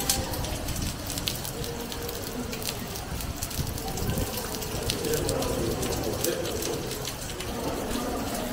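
Heavy storm rain pours down outside a tower as a steady, dense hiss of falling water, continuous and fairly loud, with faint voices beneath it.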